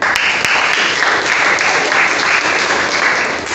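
Loud, close applause from a class of students during a classroom quiz, a dense and steady burst of clapping hands lasting a few seconds without a break.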